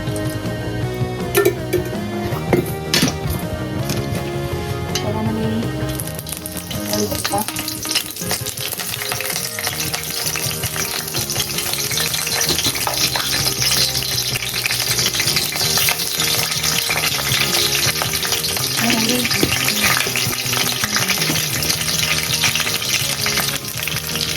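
Cumin, mustard seeds and curry leaves crackling in hot oil for baingan bharta, a loud, dense spitting sizzle with occasional utensil knocks that carries on without pause.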